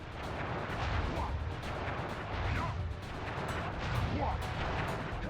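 A firework attack in the video game Sly Cooper (Sly Cooper 1) fires off as a continuous, dense crackling roar with rough popping bursts that rise and fall over several seconds.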